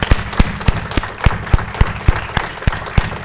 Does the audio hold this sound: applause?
yes